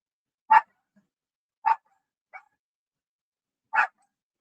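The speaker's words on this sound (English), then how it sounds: "What you barking for?" A pet dog barks in snowy weather, setting off four sharp, separate barks spaced irregularly over a few seconds. One bark is softer and shorter, with silence in between.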